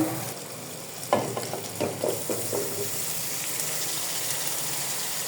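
Cut tomato, potato and eggplant drop into spices of chili powder and turmeric frying in a pan, giving a burst of loud sizzling and stirring clatter, then a steady close hiss of frying that continues alone.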